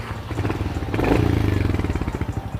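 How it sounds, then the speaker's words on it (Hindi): A 2026 Royal Enfield Hunter 350 motorcycle engine runs close by, a steady pulsing thump that swells louder partway through, like a light blip of throttle, then settles back to an even beat. "तो कुछ इस तरीके से आवाज़ आती है रॉयल एनफील्ड हंटर 350 की।"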